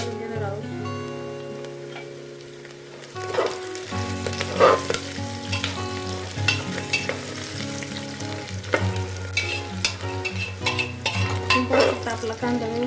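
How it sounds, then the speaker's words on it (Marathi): Chopped onion frying in oil with curry leaves for masale bhat, a loud close sizzle with frequent stirring clinks against the pan, while soft music plays underneath. "कट केलेला कांदा फ्राय करून घ्यायचा।"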